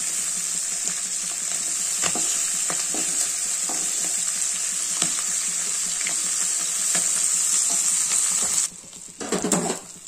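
Salted dried fish (uppu karuvadu) frying in a pan, a steady close sizzle with faint stirring scrapes that runs unbroken until it cuts off near the end into brief clattering.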